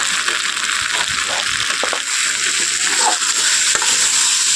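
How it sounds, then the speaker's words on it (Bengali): Fried pumpkin stirred in a pan with spices, a steady loud sizzle of frying with repeated scraping and clinking stirs, close up and with no talking. "কুমড়োটা দিয়ে দেবো দিয়ে খুব ভালোভাবে কিন্তু নাড়াচাড়া করে দিতে হবে"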